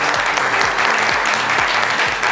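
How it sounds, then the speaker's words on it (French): A French-language talk show's studio audience applauds a guest, a loud, dense burst of clapping that stays full and even for a couple of seconds, close and with no talk over it. "Merci de l'applaudir bien fort s'il vous plaît."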